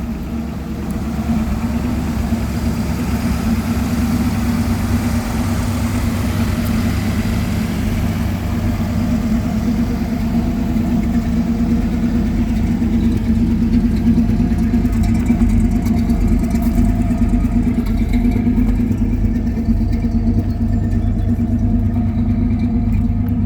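A 1971 Cadillac hearse with dual exhaust idles steadily, a deep even low rumble holding close and constant throughout with no talking.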